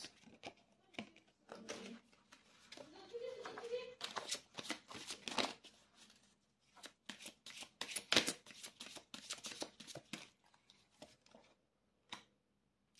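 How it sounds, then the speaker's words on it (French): Tarot cards are shuffled and drawn close up in a quiet room: repeated soft riffling and flicking bursts with short pauses, while a voice talks quietly now and then. "je vais tirer déjà une carte"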